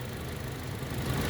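A 2016 Toyota Kijang Innova Reborn 2.0 Q manual idling, its 2000 cc four-cylinder engine giving a steady, close, even hum with no change in pace.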